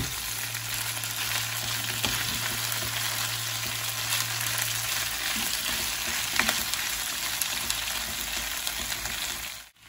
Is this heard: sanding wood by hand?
no